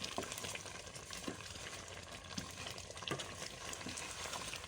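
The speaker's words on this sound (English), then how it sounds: "So you're going to stir it. Make sure it doesn't get burnt at the bottom." A pot of thick bitter leaf soup is stirred near and steady, a continuous simmering hiss with soft spoon scrapes and stirring knocks every second or so, no voice.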